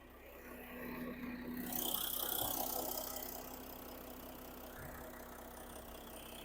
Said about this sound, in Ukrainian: Подивимося ще до двигуна, як працює двигун.